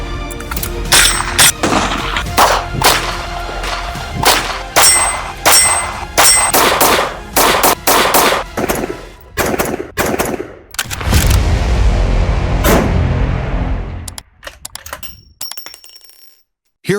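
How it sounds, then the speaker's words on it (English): Rapid bursts of gunfire from compact concealed-carry 9mm handguns such as the Ruger Max 9 and Canik Prime, loud sharp cracks fired in quick strings at an outdoor range, with a short pause before a final few shots. "Let's do some shooting."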